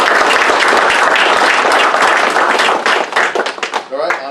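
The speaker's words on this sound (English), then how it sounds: "So I'll just give him a little clap." Applause breaks out at a township council meeting as a retiring police officer is honored for his service. The clapping from the room is close and steady, then thins out into scattered claps near the end.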